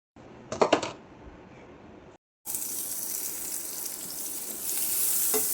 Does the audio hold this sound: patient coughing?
no